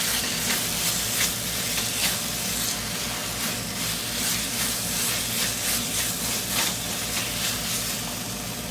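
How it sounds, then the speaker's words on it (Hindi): Paneer barfi mixture with milk powder being stirred and dried in a pan, steady sizzling hiss with rhythmic scraping strokes of a spatula, close and continuous, no voices. "पहले फर्स्ट पोर्शन को अच्छी तरह से मिक्स करेंगे और ड्राई करेंगे।"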